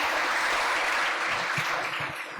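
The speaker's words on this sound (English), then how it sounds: "Everybody clap." Audience in a hall giving a steady burst of applause at a guest speaker's mental health talk, dense and continuous clapping throughout with no voices.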